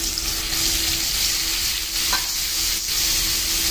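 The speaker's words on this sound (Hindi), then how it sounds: "एक बार चला लेते हैं अच्छे से।" Ground tomato puree with hing stirred in a frying pan for aloo matar sabji, a steady wet sizzle and scraping stir running throughout at close range, no talking.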